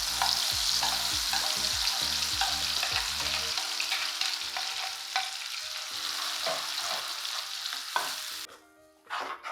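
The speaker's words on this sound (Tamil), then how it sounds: "இப்போ இந்த மாதிரி அரைச்சி வச்சிருக்கிற பைனாப்பிளை கிண்டி விடணும்" Ground pineapple paste being stirred in a hot pan for pineapple kesari, a continuous sizzling hiss with rhythmic scraping of a spoon against the pan, then a brief thud and quieter bubbling near the end.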